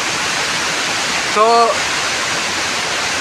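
Heavy monsoon rain roars in a dense, continuous wash close by in Himachal, with someone saying a single word briefly partway through.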